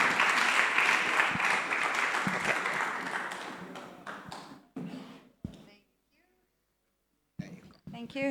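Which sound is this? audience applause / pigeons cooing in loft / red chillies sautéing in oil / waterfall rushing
audience applause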